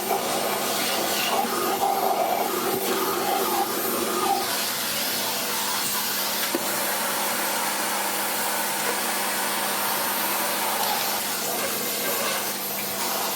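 Vacuum cleaner running steadily close up while cleaning a tight spot, a continuous broadband whooshing hiss with a faint hum that holds at an even level throughout, no voices.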